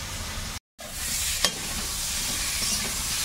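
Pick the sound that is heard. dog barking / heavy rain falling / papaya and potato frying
papaya and potato frying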